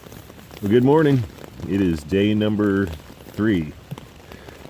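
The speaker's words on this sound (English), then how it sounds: "you can probably hear the rain in the background." Steady rain patters down at a campsite on a wet morning, a soft continuous hiss beneath a person talking in the foreground.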